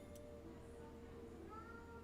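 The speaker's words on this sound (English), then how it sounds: "Is that my cat?" A cat's meow, faint and brief, carried over a low steady background hum.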